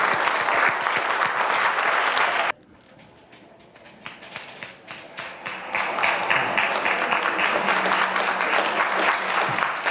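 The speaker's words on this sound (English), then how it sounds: "Please give a round of applause to Mr. Joe Casey" Dense applause from the audience at a 2018 senior talent show starts at full volume, cuts off abruptly, then returns as scattered claps that build back into loud, sustained clapping.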